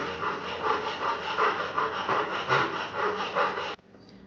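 Corners of a wooden saw handle are rounded over with a rasp or file, giving close, repeated rhythmic scraping strokes that stop abruptly near the end.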